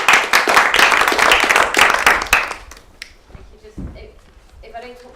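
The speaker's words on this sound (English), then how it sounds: "So have a big round of applause." An audience at an Aid Not Arms panel event gives a short burst of dense clapping close by that fades after about two and a half seconds, leaving scattered claps and room noise.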